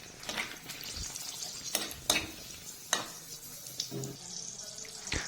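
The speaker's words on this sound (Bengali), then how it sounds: "কড়াইয়ে সরষের তেল দিয়ে ফোড়নে দিচ্ছি শুকনো লঙ্কা" Dry red chillies and bay leaf fry in mustard oil in a kadai, a soft crackling sizzle broken by sharp spattering pops and clinks of stirring, fairly faint and close.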